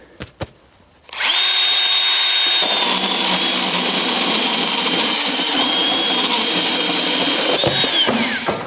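A Hilti Nuron cordless band saw cuts through M12 threaded rod with a steady, loud, even whine that starts abruptly and holds for about seven seconds, ending as the blade winds down.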